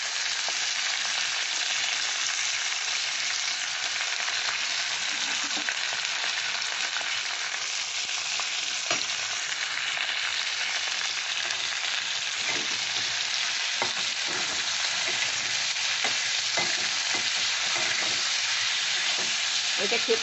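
Ivy gourd with green chilli, salt and turmeric sizzles steadily in hot oil in a pan, a continuous close frying hiss with occasional stirring scrapes and no talking.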